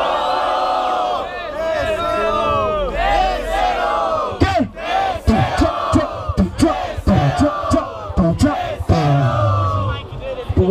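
Loud crowd at a Brazilian rap battle, the 2018 Batalha do Relógio in the Federal District, roaring, cheering and shouting together in a sustained din with sharper bursts of yelling.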